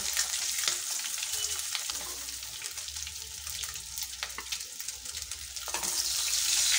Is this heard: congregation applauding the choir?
no